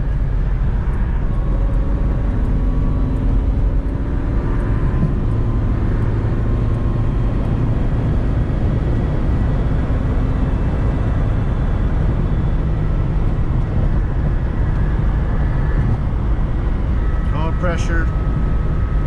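A Z car cruises at highway speed around 70 mph, giving a loud, constant broadband road and engine roar heard from inside the cabin. A voice talks under the noise for much of the stretch.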